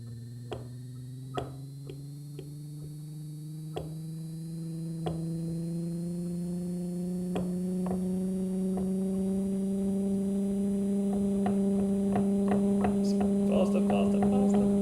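A small electric motor spun by a spinning object gives a steady electrical hum that slowly rises in pitch as it speeds up, with faint clicks and ticks scattered throughout, quiet and alone.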